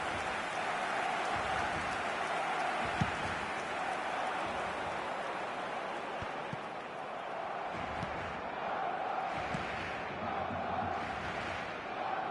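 A football stadium crowd in a video game roars steadily for several seconds, a dense, continuous wash of massed voices with a few faint thumps scattered through it.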